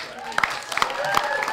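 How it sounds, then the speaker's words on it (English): An audience claps for a contestant at a live competition event, a brief burst of dense close applause with sharp individual claps standing out. "And another round of applause for Danielle Suzy as well."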